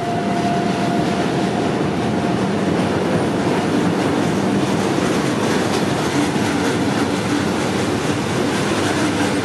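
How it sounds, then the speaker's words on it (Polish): Vectron locomotive hauling a consist of Stadler Flirt trains rolls past a station at Łowicz Główny, a steady loud rumble of wheels with clickety-clack and faint squeal throughout, no voices. "Stadlerki jadą."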